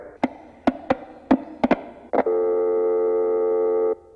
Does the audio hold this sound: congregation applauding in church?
no